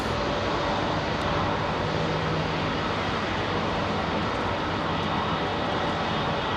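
An airliner departing from Heathrow Airport produces a loud, continuous broadband jet roar, unbroken and close, with no talking.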